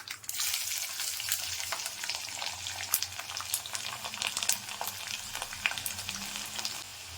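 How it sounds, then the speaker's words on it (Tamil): Garlic fries in hot oil with mustard seeds and cumin, making a close, constant hiss crowded with fine crackles and sputtering pops for several seconds, with no voices. "நம்ம எண்ணெயும் கடுகும் போட்டு சீரகம் போட்டு வறுத்துட்டு இந்த பூண்டை இதில் போட்டுக்கணும்"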